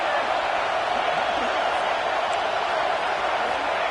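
A football stadium crowd at a college game roars steadily and loudly, a broad sustained wash of cheering with no breaks, the noise rising as the play gets going.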